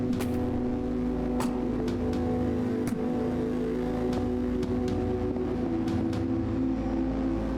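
Engine running in the video game This Strange Realm Of Mine: a steady, loud, low droning hum with layered tones and occasional faint clicks, continuous throughout.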